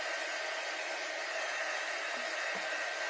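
A hair dryer blows steadily and loudly, drying paint on a patriotic butterfly craft, a constant broadband whoosh with only faint thuds beneath it.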